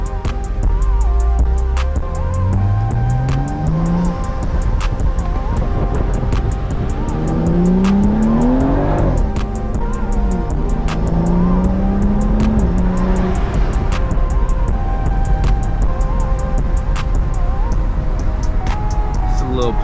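Loud engine of a BMW M235i revving and pulling through gears while driving, pitch sweeping upward repeatedly with shift breaks, heard from inside the car with occasional talk.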